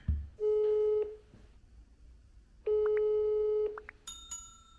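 Ringback tone from a phone call placed to answer a flyer ad: two long, steady one-second rings separated by a pause, then a few short electronic beeps as the line connects.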